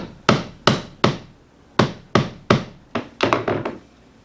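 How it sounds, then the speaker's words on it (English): A hammer gives a baru nut's thin shell a series of sharp, woody taps, about ten knocks in uneven groups with a quicker cluster near the end, close and with no talk. "I'm going to first crack open the Baruka nut, just with a hammer"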